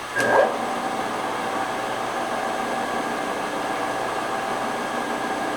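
A rotary phase converter powering a vertical milling machine runs with a steady, even electrical hum and broadband whir, after a brief startup thump, holding constant throughout.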